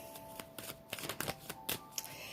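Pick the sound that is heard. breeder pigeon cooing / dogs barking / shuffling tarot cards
shuffling tarot cards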